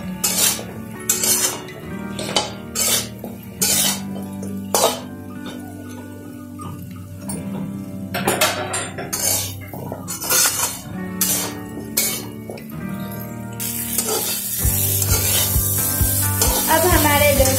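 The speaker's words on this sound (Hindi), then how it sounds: "मसाला ऐड करने के बाद हमें इसे 2 से 3 मिनट इसे हिला के पकाना रहेगा" Drumstick curry with spices being stirred in a pan, giving steady metal-on-pan clinks and scraping taps in a loose rhythm over low background music, fairly close and moderately loud.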